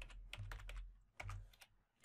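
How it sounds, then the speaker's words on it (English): Quiet, close keystrokes on a computer keyboard while code is typed for a VB.NET console menu program, with quick irregular taps and a short pause in the middle. "So I'm going to type"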